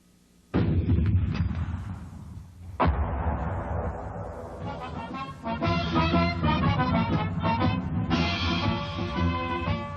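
Artillery from the 82nd Airborne Division fires in a mission, two heavy booming blasts that roll and echo, followed by a stretch of loud rumbling mixed with a tonal, music-like sound layer.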